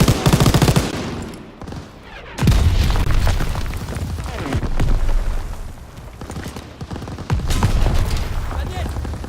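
Ammunition reserves exploding in Call of Duty WWII, with heavy booms and rattling gunfire in dense bursts, loud and close, broken by brief lulls and mixed with game voices.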